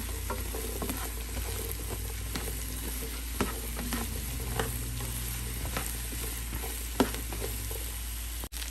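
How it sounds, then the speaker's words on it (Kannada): Cut okra frying in a pan with softened onion while being stirred, an even close sizzle with repeated scraping strokes of the spatula throughout. "ಕಟ್ ಮಾಡಿರೋ ಬೆಂಡೆಕಾಯಿ ಹಾಕ್ತಾ ಇದ್ದೀನಿ. ಚೆನ್ನಾಗಿ ಮಿಕ್ಸ್ ಮಾಡೋಣ."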